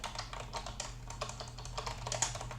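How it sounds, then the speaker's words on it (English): Keys clatter on a computer keyboard in quick, uneven bursts, close and fairly quiet over a steady low hum, with no voices. "typing is hard"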